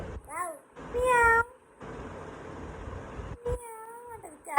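A voice imitates a cat, giving two drawn-out meows separated by a pause, close and fairly loud.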